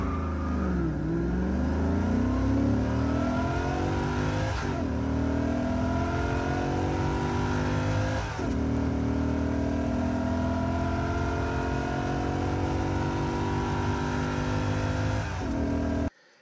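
A Chevrolet Corvette C4 engine heard from inside, revving hard through rising pitches with brief dips at each gear change, loud and continuous.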